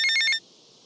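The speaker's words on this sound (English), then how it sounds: "We've got a goddamn phone call." A telephone in the video game GTA Vice City rings with a short, loud electronic trill of about four rapid pulses that cut off abruptly, leaving a faint hiss.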